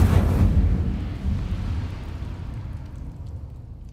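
Incendio fire spell cast in Hogwarts Legacy, a loud whooshing burst of flame at the start that fades into a low, sustained rumbling roar.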